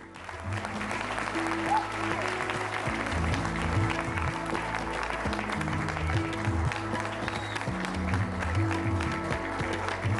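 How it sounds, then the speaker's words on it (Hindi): Studio audience applause welcomes a Bollywood actress onto the stage at a televised News18 India Chaupal event: a dense, steady wash of clapping that runs the whole time over low, sustained music. "तालियों की गड़गड़ाहट के साथ स्वागत कीजिए"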